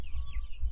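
Pastured farm chickens cluck in a brief, close burst of soft throaty calls over a low background hum.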